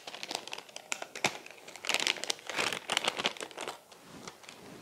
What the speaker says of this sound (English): Place the badge into the foil pouch.